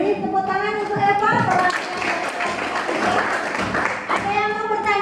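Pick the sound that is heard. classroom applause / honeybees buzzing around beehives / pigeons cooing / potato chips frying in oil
classroom applause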